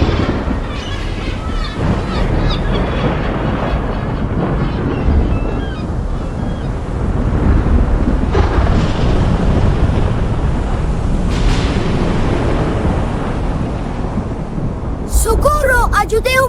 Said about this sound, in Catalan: La tempesta és molt forta!